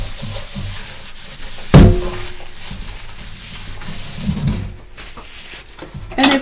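Cloth or pad rubbing across a cooking surface after food is removed, soft scuffing strokes with a sharper knock near the start and a few louder swipes toward the end, close and alone.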